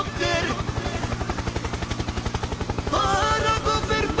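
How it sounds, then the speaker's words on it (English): A helicopter's rotor chops in a fast, steady pulse throughout, loud and close, with a brighter engine whine rising near the end. "Helicopter, helicopter."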